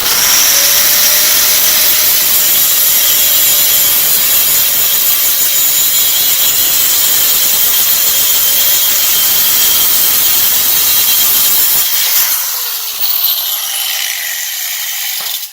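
Milwaukee angle grinder cutting through metal, a loud, steady high-pitched grinding whine held for about twelve seconds before the cut finishes and the tone drops away, with no talking.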